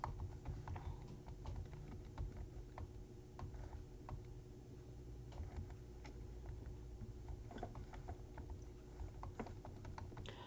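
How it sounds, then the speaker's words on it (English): A computer keyboard being typed on at a steady pace, with quick overlapping key clicks over a constant low background hum. "we're going to type in the address"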